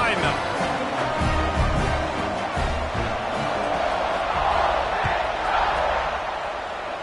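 Stadium crowd in the College Football 26 video game, a steady, dense roar of cheering that holds throughout while a commentator talks over it.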